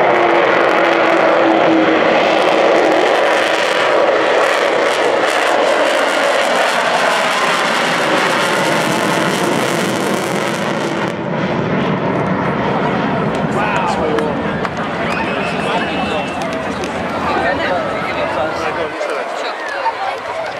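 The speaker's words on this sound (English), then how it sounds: "they're a taste of that fantastic howl from those massive Olympus engines" Massive Olympus jet engines on a display aircraft at the Bournemouth Air Festival roar with a loud sustained howl that swells then fades as the jet passes, while a commentator speaks over it.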